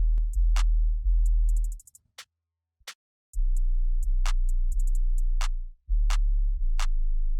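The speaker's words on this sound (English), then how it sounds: "So moving on to the drums, this is what they sound like all together." Hip-hop style drum loop in a chill type beat: deep sustained kick-bass hits with snappy snares and quick hi-hat rolls in a simple, steady pattern, briefly dropping out midway before returning.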